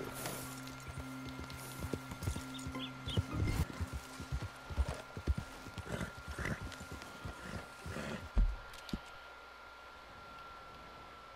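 Horse hooves in Red Dead Redemption 2 clip-clop in a quick, uneven rhythm over a faint steady hum, ending with a heavier thud before fading to quiet.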